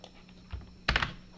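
A quick cluster of computer keyboard keys pressed together as a shortcut combination, a few sharp close clicks bunched near the end of a short, quiet moment.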